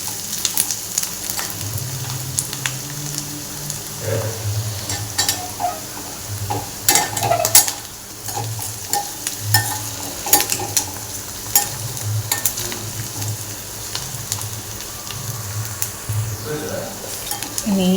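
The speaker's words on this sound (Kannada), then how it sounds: "ನೋಡ್ಬೋದು ಫ್ರೆಂಡ್ಸ್, ಚೆನ್ನಾಗಿ ಫ್ರೈ ಆಗ್ತಾಯಿದೆ." Curry leaves and onions frying for kaalu palya, a loud continuous sizzle with repeated stirring scrapes and clinks against the pan, and a voice speaking at times.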